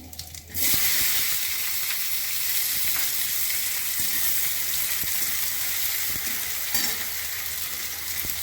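Onion hitting hot spiced oil with cumin, garam masala and bay leaf for a mutton and potato curry bursts into a loud, steady, close sizzle that stays dense and hissing throughout.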